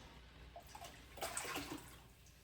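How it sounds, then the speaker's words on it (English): A hand-knit cardigan is lowered into a pot of hot water for overdyeing, giving faint soft splashes and trickling liquid sounds against a quiet background hiss. "I'm gonna go ahead and add my sweater, trying not to splash."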